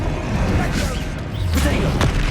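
A Bombarda explosion spell in the Hogwarts Legacy video game: a loud, sustained low rumbling blast with swooshing magical whooshes layered over it.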